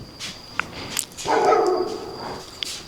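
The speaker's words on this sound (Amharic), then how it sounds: "እንደምታዩት ውሻ ጩኸት ላይ ነው ምናምን" At night a dog barks a few times outdoors, the sharp yaps sounding somewhat distant against a quiet background, with one longer, louder stretch of yelping in the middle.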